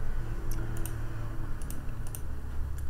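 Computer mouse buttons click a handful of times in short, irregular bursts, sharp little ticks, some in quick pairs, over a faint steady background hum.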